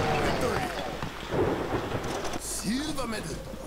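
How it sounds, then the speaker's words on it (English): Thunderstorm level in the video game One Finger Death Punch: rumbling thunder and rain wash through the game's soundtrack, with swooping effects and hits layered on top. "Pretty good for a thunderstorm round."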